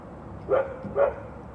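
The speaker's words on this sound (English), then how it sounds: "I swear my dog's barking just to annoy me." A dog barks twice in quick succession indoors, muffled and moderately distant, over a steady background hum.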